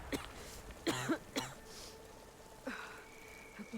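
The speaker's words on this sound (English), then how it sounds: "Aloy's coughing a lot." Aloy coughs several times in Horizon Forbidden West, harsh throaty bursts with brief gaps between them and a final soft throat-clearing, close and fairly quiet over a low background hum.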